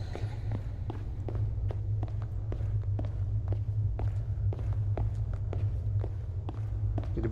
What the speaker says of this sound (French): Avec mes bruits de pas et les bruits de pas de ce qui semble être l'ennemi du niveau, ça fait un peu peur.